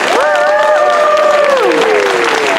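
Dense, steady applause from a theatre audience at a stage performance of Shakespeare's Julius Caesar fills the scene with broad crowd noise, while sustained tonal music or horn-like notes glide across the top.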